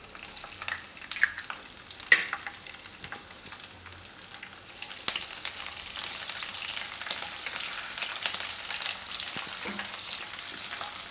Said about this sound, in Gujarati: તો તેલ આપણું ગરમ થઈ ગયું છે, એમાં આપણે નાખીશું આખા મસાલા ને મરચાં